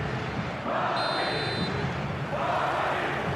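Dense stadium crowd roar in an eFootball match on a clear night, a loud continuous wash of cheering with a brief high whistle-like tone partway through.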